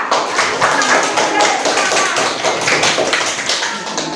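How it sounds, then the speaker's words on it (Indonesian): Students in a classroom clap their hands together after a group presentation, a dense, steady burst of many close hands with voices mixed into it. "Tepuk tangan dulu ya."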